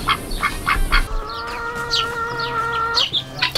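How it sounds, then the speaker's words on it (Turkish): Chickens and roosters in a yard give rapid clucks and a sustained crowing call, loud and close, with hens' short calls returning around it. "Belki şurada var ya, 150 tane tavuk var."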